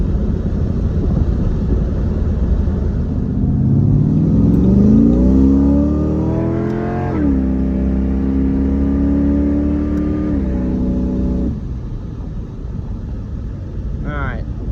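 A 1987 Pontiac Firebird engine revving at wide open throttle, a loud close roar climbing in pitch, holding high, then dropping back toward idle, with someone talking over it.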